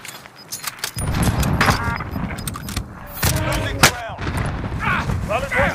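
Sniper and other gunshots in the Warzone video game, several sharp loud cracks and booms scattered across the clip, with people talking over the gunfire.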